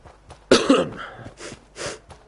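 A person with a cold coughs and sniffles. There is one sharp, loud cough burst, followed by a few quieter sniffs and breaths, close to the microphone.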